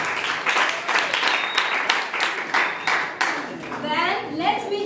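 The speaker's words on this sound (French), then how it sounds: "Dear house, let's clap." An audience at a school debate claps in a dense burst of applause, with a voice speaking over the clapping toward the end.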